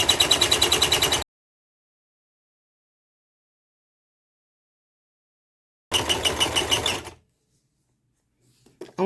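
A sewing machine stitches paper ticket snippets in two short, rapid rhythmic bursts of mechanical chattering, separated by silence, with faint clicks at the end.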